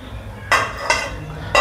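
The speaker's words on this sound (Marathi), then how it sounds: "आता झाकण खोलूया." A modak steamer pot's lid being lifted: three short metallic clanks and scrapes, close and fairly loud, over a low background hum.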